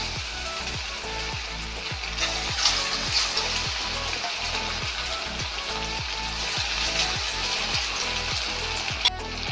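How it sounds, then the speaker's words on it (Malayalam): Macaroni pasta frying in coconut oil in a pan gives a steady, dense sizzle with rapid crackling pops that stays even and close throughout, with no talking. "അപ്പോൾ ഞാൻ നമ്മുടെ ഫ്രൈ ഇടാനായിട്ട് പാസ്ത ഇടുന്നു, ഫ്രൈ ആവാനായിട്ട്."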